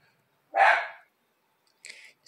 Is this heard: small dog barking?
yes